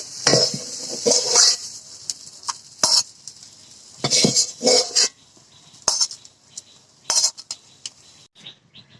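Metal wok set back down onto a kitchen stove after washing, with clanks and scrapes of cookware in sharp bursts, close and fairly loud, no talk.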